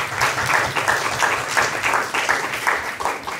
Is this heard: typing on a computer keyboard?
no